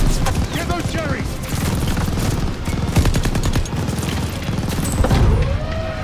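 Rapid machine gun fire from a half-track in Call of Duty Vanguard, dense crackling bursts rattling continuously amid battle noise and explosions, with someone talking over the top.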